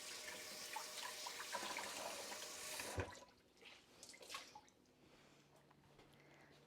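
Hands are washed under a running kitchen tap while preparing Mexican chicken tortillas, a steady close splash of water for about three seconds that cuts off into quieter drips and small sink clatter.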